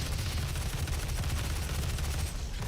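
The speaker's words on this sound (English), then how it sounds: "Let's fill them with mini rockets." Mini rockets fire at a Hell Knight in the Doom 2016 game, set in a foundry: a dense, loud, continuous burst of rapid explosive shots lasting throughout, with no talk.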